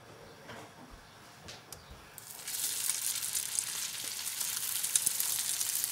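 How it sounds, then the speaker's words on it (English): A New Zealand whitebait fritter made with egg, salt and pepper hits hot butter in a pan, starting as quiet handling noises and then breaking into a steady, close, loud sizzle. "and cooking it in butter."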